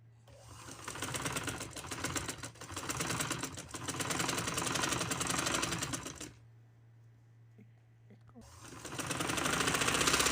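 A sewing machine stitches a trouser in loud, rapid mechanical runs, breaking off for about two seconds before starting again, all close by.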